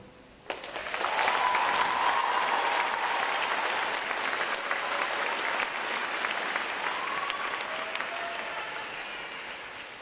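An audience bursts into loud, sustained applause at a U.S. Navy Recruit Training Command boot camp graduation, the dense clapping of a large crowd starting abruptly and slowly tapering off over about nine seconds.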